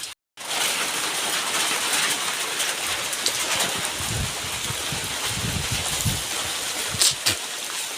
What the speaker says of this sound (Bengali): এই দেখুন বৃষ্টি পড়ছে ভয়ঙ্কর